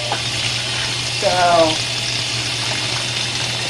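Cold water streams steadily into a loaner washing machine filling on its delicate cycle, a constant broadband rush throughout with a brief spoken word over it.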